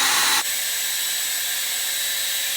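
A heat sealer blows hot air to shrink plastic wrap, with a steady, loud, hair-dryer-like whoosh that starts with a brief harsher burst and then holds constant, close and alone.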